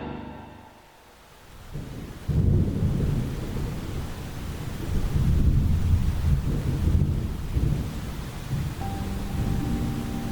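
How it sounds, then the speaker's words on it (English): Radio drama storm effect of heavy rain and rumbling thunder, a low roaring wash that swells after a quiet start and rolls on continuously with gusty surges, loud and close, with no voices. "So there I was, standing under an awning, in the rain, with old Professor Florsham."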